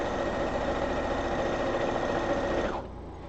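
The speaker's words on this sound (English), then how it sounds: "I just have to remember not to sew all the way at the end, so I leave myself a little space." Sewing machine running steadily as it stitches fabric, a close, continuous mechanical whir that cuts off near the end, leaving quieter room tone.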